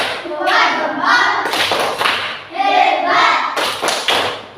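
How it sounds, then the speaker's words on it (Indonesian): A classroom group performs the rhythmic 'tepuk hebat' clap, with sets of claps and thumps in a patterned beat, close and loud, mixed with voices chanting along. "Untuk itu kita apresiasi dengan melakukan tepuk hebat."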